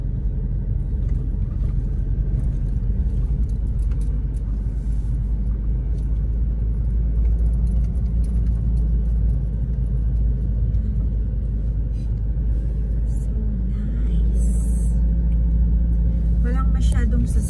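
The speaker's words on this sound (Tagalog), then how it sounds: "Masyadong sasakyan ngayon." Road traffic near Sakura Park in Atok, Benguet, including cars and large trucks, rumbles steadily and loudly, with vehicles passing close by. People talk throughout, partly over the engine noise.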